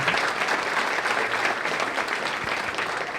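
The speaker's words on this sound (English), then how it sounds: "So let's have a round of applause for the sponsors," Sustained applause from a roomful of guests at a spring chamber of commerce business breakfast, a dense steady patter of many hands clapping together for the whole stretch, fairly close and loud, with no talk over it.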